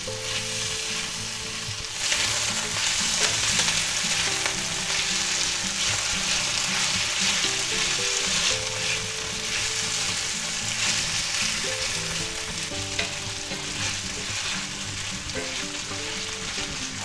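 Pork sizzling and frying steadily in a hot pan as it browns for lo mein, a continuous close crackle with occasional stirring scrapes and no voices.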